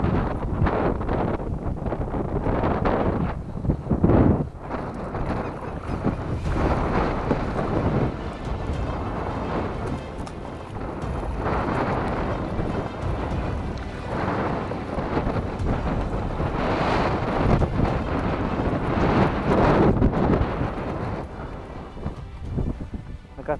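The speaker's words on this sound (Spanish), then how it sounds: "Contra 50 kilómetros de viento." Strong wind of around 50 km/h blows over the sea on a kayak fishing outing off Punta del Este, a loud continuous rumbling roar buffeting the microphone, with brief voices faintly underneath.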